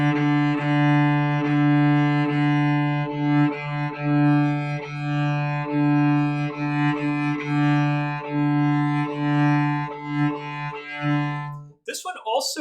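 A bowed string instrument plays a steady pattern of mostly quarter notes with a few eighth notes, each stroke clear and sustained at close range, played alone before a brief voice at the end.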